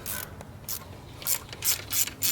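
A ratchet undoes a bolt on a Mini Cooper S N18 engine during timing chain work, giving several short bursts of close, dry clicking separated by brief pauses, with no talking.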